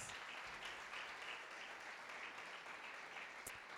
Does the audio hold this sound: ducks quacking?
no